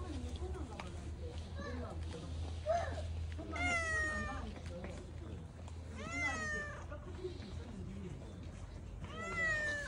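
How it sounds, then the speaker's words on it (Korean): A friendly cat at a small neighborhood shop in Mokpo meows repeatedly, three clear rising-falling calls close by, while people chatter quietly and a low hum runs underneath. "냐옹이, 네가 연인의 슈퍼의 개냥이야?"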